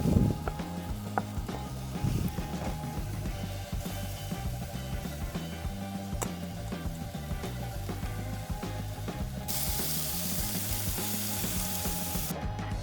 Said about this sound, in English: Mushrooms and onions on the griddle